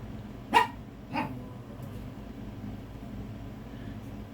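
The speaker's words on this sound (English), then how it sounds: "Excuse my dogs, I don't know what they're barking at" Two short dog barks ring out early, the first sharper, then only quiet room noise remains.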